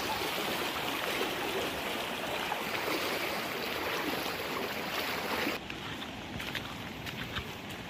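Steady rushing of river water near Zamora Falls in Bulacan, a continuous broadband wash that stays loud and close throughout, dropping slightly in level near the end.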